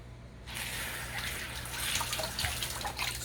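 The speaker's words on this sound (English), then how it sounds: "Here's the water." Water suddenly starts running from a newly connected copper-to-PEX pipe into a rag, a steady close gushing and splashing that continues evenly after the flow opens.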